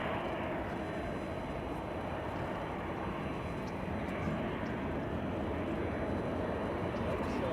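Airplane departing at LAX, heard as a distant, steady broadband jet roar that holds fairly constant for several seconds without much rise or fall.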